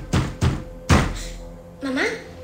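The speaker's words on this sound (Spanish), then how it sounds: "Ante los golpes en la puerta del cuarto" Three firm knocks on a bedroom door sound close and loud in quick succession: two together, then a heavier third, followed by a voice calling out.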